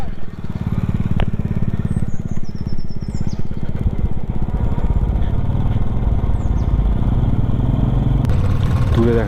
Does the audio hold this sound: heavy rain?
no